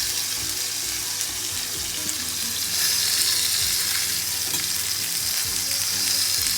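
Sirloin steak frying in a pan at home, a steady loud sizzle and crackle running continuously with stirring and scraping noises, and no talking.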